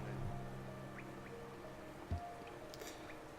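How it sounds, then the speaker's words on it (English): Soft steady rain falls in the underground City of Tears area of the video game Hollow Knight, a faint even patter with scattered light drips and one brief thump, no talk. "I don't know how it's raining underground."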